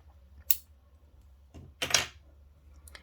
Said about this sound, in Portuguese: E aí, vamos cortar o fio.